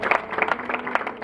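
A wedding crowd in Kigali claps steadily, a dense, even patter of many hands at moderate loudness with faint crowd murmur beneath.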